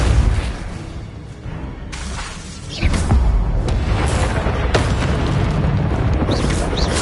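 Incendio fire spell cast during Hogwarts Legacy gameplay, a deep whooshing boom that flares up and keeps rumbling, with sharper crackling bursts scattered across the dense, loud fiery roar.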